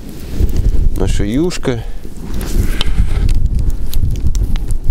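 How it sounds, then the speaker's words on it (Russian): Steady, loud wind buffets the microphone outdoors beside a boiling pot of fish soup, a broadband roar, while a person speaks briefly early on. "Ветер, конечно, ужасный."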